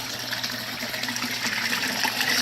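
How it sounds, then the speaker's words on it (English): A bell siphon drains water from an indoor aquaponic grow bed, a steady broadband gush of rushing, gurgling flow close by that holds without a break and swells slightly toward the end. "Okay, so the bell siphon just kicked on."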